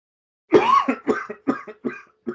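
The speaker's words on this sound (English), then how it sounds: "I have a very bad cough today" A bad cough from a person who is ill, a loud close burst followed by several smaller hacking coughs in quick succession.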